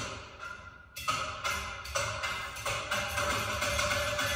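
Ceiling fan running with two small lugs on the blade assembly striking the housing, producing a steady series of rhythmic clicks that start abruptly about one second in and continue close and fairly loud.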